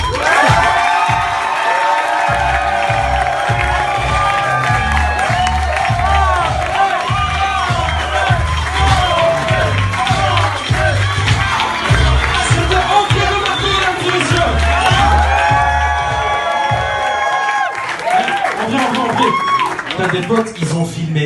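A comedy club audience cheers, whoops and claps for a stand-up comedian, a loud, sustained crowd roar with shouting and applause filling the whole stretch and a brief dip near the end.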